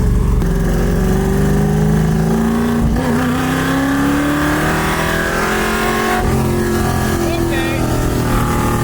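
A 1965 Ford Mustang V8 pulls hard through the gears, a loud close engine roar rising in pitch with a shift break partway through, then climbing again, with speech mixed in.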